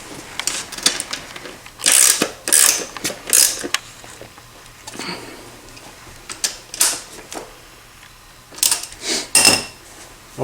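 Tool tightening bolts on a bicycle wheel during an inner tube change, close ratcheting clicks in short clustered bursts separated by quiet pauses, no talking.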